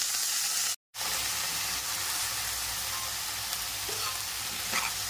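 Washed mixed vegetables hitting hot oil in a pan, then a loud continuous sizzle and hiss with faint stirring, close by, after a brief silent gap near the start.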